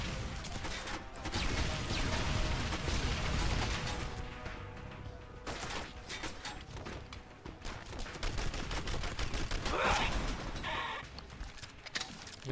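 Rapid bursts of gunfire from low-powered weapons in the Mars-set shooter Red Faction Guerrilla, dense and continuous across the stretch with brief pauses, loud and close amid game explosions and clatter.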